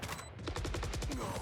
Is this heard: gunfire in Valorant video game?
yes